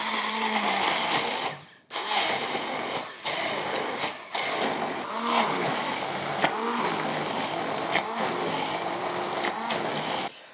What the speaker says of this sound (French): On va commencer par faire avec une girafe dans un récipient comme ça assez serré